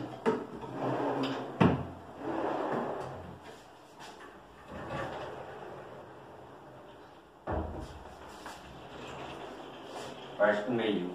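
A wooden wardrobe drawer, assembled entirely with dowels, slides open and shut: scraping wooden runs followed by solid knocks as it closes, repeated a few times with quieter handling noise in between.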